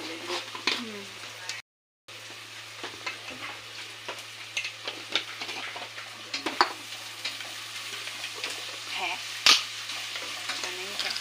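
Coriander, ginger and garlic paste sizzles and crackles in a hot pan, a steady frying hiss with scattered pops and stirring clatter, close by, with faint background noise and a brief cut partway through.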